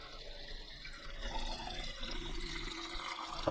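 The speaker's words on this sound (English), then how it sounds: "fresh water straight from the tap, drinking water. And I'm going to fill it up until it gets to the max." Fresh tap water pours steadily into the filter tank of an Aurora Aqua Optima hot and cold water dispenser, a continuous close splashing and trickling rush that holds fairly even throughout with no talking.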